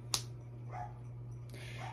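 A dog barks outside, faint and distant, with two short barks over a steady low indoor hum, plus one sharp snap-like click.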